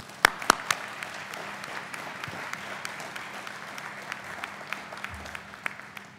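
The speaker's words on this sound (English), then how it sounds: "please join me with a round of applause for the family" Audience applause fills a military change of command ceremony for an operations support squadron, starting with a few sharp claps and settling into steady, moderately distant clapping that carries on for several seconds.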